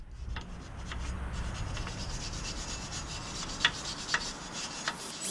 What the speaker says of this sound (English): you're gonna grab a wire brush, all this nasty rust that's in here, clean it all up.